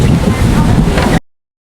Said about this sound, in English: You can even ride the boats through the water.